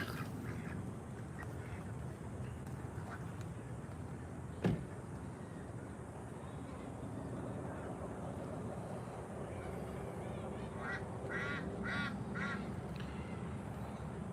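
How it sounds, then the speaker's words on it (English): Ducks quacking at a Phoenix community pond, a few distant calls scattered over steady outdoor ambience, with a sharp knock midway and a cluster of honking quacks toward the end. "These ducks are active."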